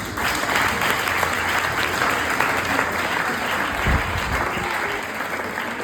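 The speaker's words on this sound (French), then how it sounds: "Est-ce que ça ne s'applaudit pas?" A crowd of wedding guests in Abidjan claps in sustained, dense applause, loud and steady throughout with a voice briefly audible underneath.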